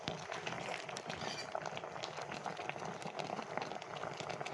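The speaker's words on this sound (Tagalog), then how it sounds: "Si Nana po ay merong nilalagang kamuti dito" Sweet potatoes boil in a pot with a steady, faint bubbling and simmering hiss that continues without a break.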